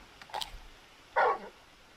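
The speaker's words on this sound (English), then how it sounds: "You're just a big puppy, aren't you? A very big puppy." Torgal, a large dog in the video game Final Fantasy XVI, giving two short barks, a faint yip followed by a louder, fuller bark, over quiet background ambience.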